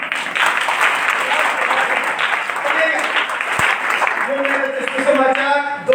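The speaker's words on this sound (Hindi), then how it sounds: "अरे ताली भी हल्के से बजा रहे।" A church congregation claps lightly during a sermon, a soft, steady patter of many hands, while someone speaks over the applause.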